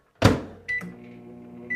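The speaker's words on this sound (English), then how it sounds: "we're going to pop the plastisol in the microwave here" A microwave oven heating plastisol: a sharp door clunk, a short electronic beep, then the oven's low steady hum running alone, with another beep at the end.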